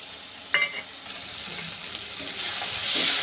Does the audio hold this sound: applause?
no